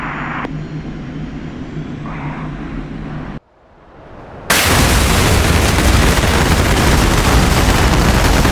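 Bomb blasts in DCS World after an Su-25 attack jet releases its payload: a steady jet engine drone cuts out, then a sudden loud, broadband roaring explosion rumbles on without fading.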